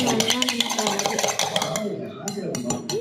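A spoon stirs a drink in a glass, clinking and rattling quickly and steadily at close range before thinning into a few scattered taps, with a voice faintly present in the background.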